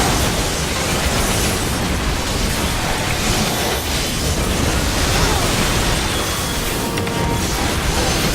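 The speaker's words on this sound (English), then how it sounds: "Mortars." A mortar barrage rains down in Final Fantasy XIV Stormblood, a dense, loud, continuous roar of blasts and rumble with no clear gaps between impacts.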